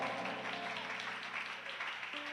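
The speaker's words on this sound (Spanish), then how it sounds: "Dele fuerte ese aplauso al Señor." Church congregation applauding during a Spanish-language sermon, a dense steady wash of clapping that stays fairly even throughout, with a faint tonal hum beneath.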